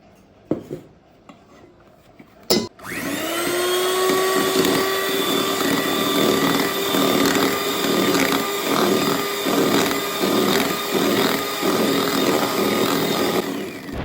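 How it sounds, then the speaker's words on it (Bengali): A kitchen blender whirs steadily at high speed, mixing sponge cake batter with powdered sugar, starting after a few clinks and running loud and continuous to the end. "সেটা দিচ্ছি দিয়ে তারপর আবার ব্লেন্ড করব"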